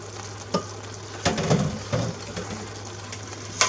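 Crushed tomatoes being stirred into goulash in a cooking pot, a few scraping, sloshing strokes with a steady low hum underneath and a soft sizzle, close and moderately loud, no talking.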